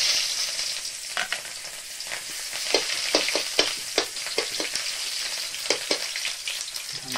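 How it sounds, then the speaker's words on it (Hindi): Onions sizzle steadily in hot oil in a kadai, with a constant hiss broken by scattered spatula clacks and scrapes, close and moderately loud with no talking. "अभी हम प्याज डालेंगे।"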